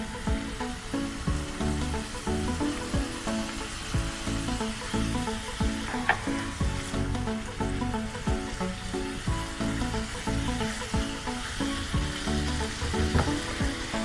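Fried vegetables tipped into a pan of sizzling gravy for masoor biryani in a home-style kitchen: a steady, close, loud frying hiss with stirring scrapes running throughout, no talking.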